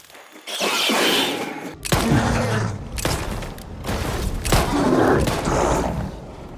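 Several heavy booming shotgun blasts ring out in S.T.A.L.K.E.R. 2, spaced a second or so apart, each followed by rumbling echo.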